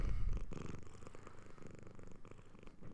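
A cat purrs close by in a steady, continuous low rumble that holds throughout without a break, with no talking over it.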